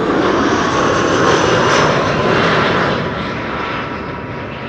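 An Aer Lingus jet airliner from Dublin arrives at Amsterdam Schiphol, a loud, broad engine roar passing nearby and easing slightly toward the end.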